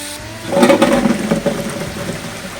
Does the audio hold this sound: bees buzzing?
no